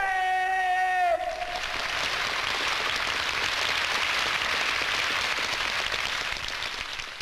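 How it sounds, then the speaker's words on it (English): Sustained applause from a theatre audience in Moscow bursts in after a sung or declaimed tone ends, a dense, steady roar of many hands clapping that holds loud throughout. "Applause, admiration"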